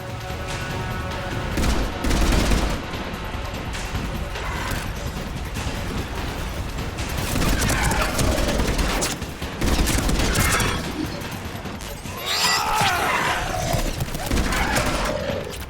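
Gunfire in Mass Effect 3's Leviathan rattles in dense bursts and single shots, with impacts and explosions from a combat scene, loud and nearly continuous.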